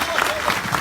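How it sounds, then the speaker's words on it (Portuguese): A crowd claps at a PDT political event in Fortaleza welcoming Ciro Gomes, a short, steady burst of applause. "Palmas turbinadas para Ciro Gomes."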